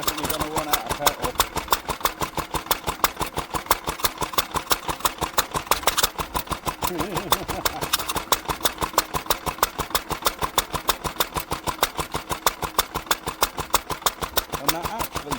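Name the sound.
old Lister stationary engine running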